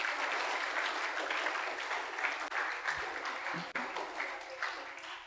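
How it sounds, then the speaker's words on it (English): An audience at a memorial lecture gives three students a big round of applause, steady clapping throughout that sounds moderately distant and fairly soft. "all three can get a big clap"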